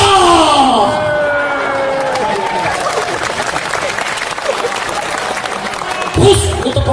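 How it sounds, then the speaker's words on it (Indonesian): An audience at a religious lecture applauds in a steady, dense clatter that rings out for several seconds, mixed with crowd noise. Voices are heard over the clapping. "itu tepuk tangan"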